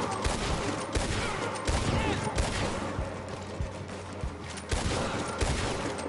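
Video game gunfire aimed at a helmeted enemy, rapid sustained shots in a steady stream at moderate loudness, continuing throughout with no pauses.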